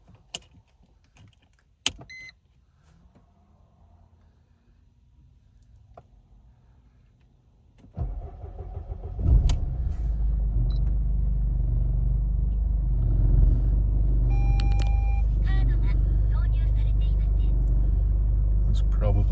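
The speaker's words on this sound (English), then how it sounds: "This is a startup of our Mercedes E220" A Mercedes-Benz E220 CDI diesel engine cranks after a few clicks and faint mechanical noises, then settles into a steady, low rumbling idle, loud and close for the remaining ten seconds.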